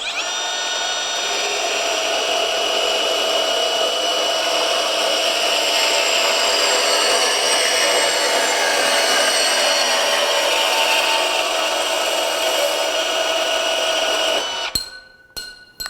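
A cordless Milwaukee M18 FUEL 2929-20 deep cut band saw runs a long steady cut with a high whining drone, then stops abruptly near the end with a few clicks and clunks as the blade halts.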